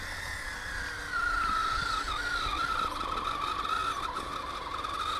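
Tires skid with the wheels locked, giving a sustained high squeal of a scale race car at a track competition. It runs for several seconds at moderate loudness, with no talking.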